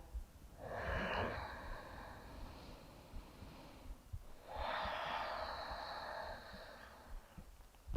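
Two slow, deep breaths during a yoga practice, each a long airy inhale sweeping into a breathy exhale, close and quiet with a short pause between them and no talking.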